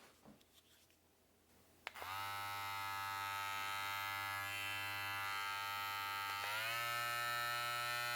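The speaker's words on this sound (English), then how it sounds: "It's to let you know how much noise the Go clipper gives" A TPOB Go hair clipper switched on and running at its high setting gives a steady, loud electric buzz with a strong low hum, starting abruptly after a quiet moment and rising slightly in pitch near the end.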